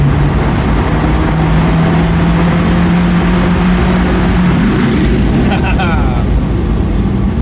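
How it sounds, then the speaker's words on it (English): Toyota MR2 third-generation mid-engine car revving after a downshift in a tunnel, a loud droning engine note that climbs steadily in pitch, echoing and continuous, with a voice speaking over it. "Every time there's a tunnel, downshift and go."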